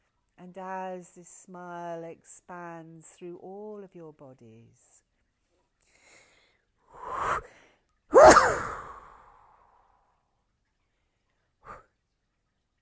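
A person speaking softly in a calm guided meditation pauses, then a sharp sneeze bursts out nearby, preceded by a short inhale and followed by quiet breath.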